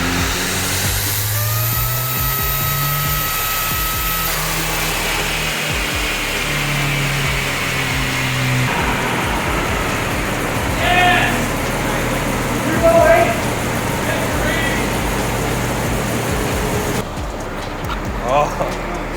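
A Ford SVO engine on Holley EFI runs on a dynamometer under boost, a steady loud roar whose pitch rises and shifts through a full pull, continuous and close with no talk over it.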